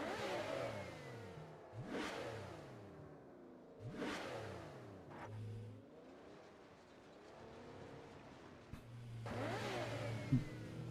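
A car engine in PUBG Mobile revving and accelerating in repeated surges, with rising and falling tones, fairly near and steady, no talk over it.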